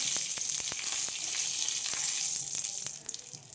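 Cumin, two dried chillies and a bay leaf sizzling in hot oil: a steady bright hiss with sharp crackles and pops scattered throughout, close and fairly loud, easing slightly at the end.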